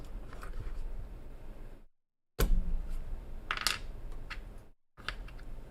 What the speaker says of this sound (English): I'm gonna swap the keycaps.